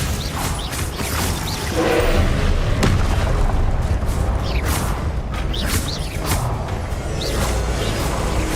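The Glacius ice spell is cast in Hogwarts Legacy on PC, bringing swooshing, crackling bursts and a few booming impacts over dense, continuous game ambience.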